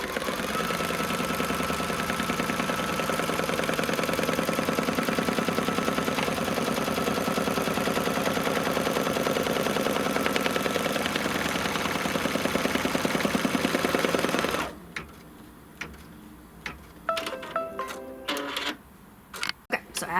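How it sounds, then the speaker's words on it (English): An embroidery machine stitches a vinyl piece onto a project in a hoop, a fast, steady mechanical rattle of the needle running for about fifteen seconds, then stopping into scattered clicks and quieter movement. "So what it's going to do now is just stitch this vinyl down."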